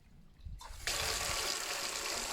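A kitchen tap in a rural farmhouse is turned on for washing, its water rushing out in a loud, steady hiss that starts abruptly and keeps flowing.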